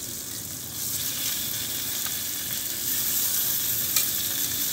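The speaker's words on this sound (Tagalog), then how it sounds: "iyo atin na isunod sa paggisa" Talakitok fish sautéing in a hot pan, a steady close sizzle and crackle of frying oil that swells slightly partway through, with faint stirring and no voices.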